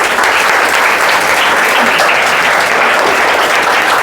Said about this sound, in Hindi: बजाओ ताली भाई।